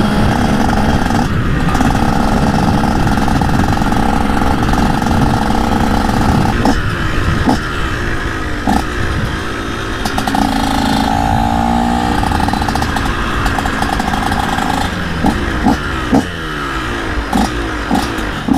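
A new 2018 TM SMR 125 motorcycle engine, still being broken in, drones steadily and loudly throughout, with shifting pitch and occasional revs as the bike rides along.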